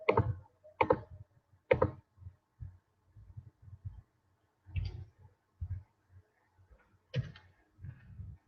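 Keys are struck on a keyboard in sparse, irregular taps and heavier thumps, fairly close, separated by quiet gaps with no talking.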